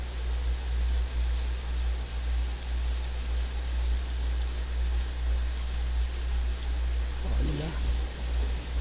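Continuous rainfall from a Euro Truck Simulator 2 realistic rain, thunder and lightning mod, a dense even hiss layered over a low idling truck engine drone, with a brief low rumble near the end.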